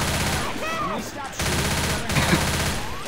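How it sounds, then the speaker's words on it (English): Rapid gunfire fills Left 4 Dead 2 gameplay, a dense continuous rattle of shots with a brief break midway, while voices chatter underneath. "Stop shooting"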